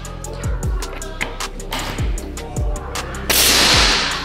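An FX Marauder PCP air rifle fired several times in quick succession, each a sharp, loud crack with a short thump, spaced irregularly, ending in a burst of hissing noise.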